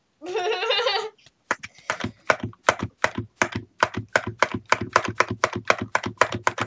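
Rapid, loud typing on a computer keyboard with evenly spaced clacking keystrokes, following a brief bleating voice-like burst at the start, with no other talk.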